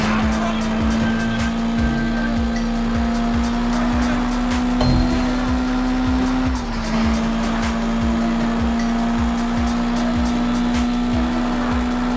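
A motorbike engine drones steadily throughout a police chase in the video game Sleeping Dogs Definitive Edition, its pitch holding high and dipping briefly, with game sound effects layered on top.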